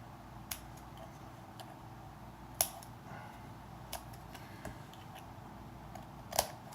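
A few quiet, sharp snips of scissors cutting cotton wicks at irregular intervals, with louder cuts around the middle and end over a faint background.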